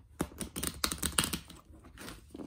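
A full-size tarot deck of flexible cardstock, a Jean Noblet reproduction, is shuffled close by in a quick run of soft riffling clicks and flutters, with no talking.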